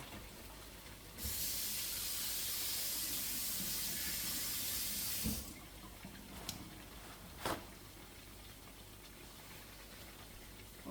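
Water runs steadily from a sink tap for about four seconds as hands are washed, a broad hiss, then stops; a couple of brief clinks and knocks follow in a quiet room.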